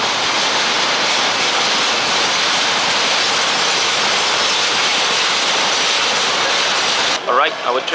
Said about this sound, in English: Alright, our train is here.